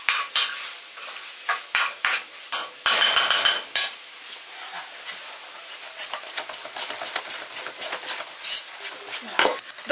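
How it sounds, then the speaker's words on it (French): Courgettes frying in a pan are stirred with a utensil, producing close scraping and clattering strokes over a soft sizzle, in irregular bursts that quicken toward the end. "je vais tourner mes courgettes"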